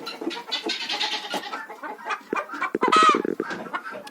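Chickens cluck busily nearby in a Ukrainian village yard, with a louder squawking burst in the middle and goats bleating mixed among the calls.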